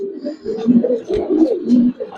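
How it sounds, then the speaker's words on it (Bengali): Pigeons of an old Giribaz breed coo inside an indoor room loft, with repeated soft throaty coos in an irregular rhythm, close and fairly loud, heard on their own. "কবুতর দেখেন মাশাআল্লাহ, দুইটা কবুতর একবার তুতার ভিতর"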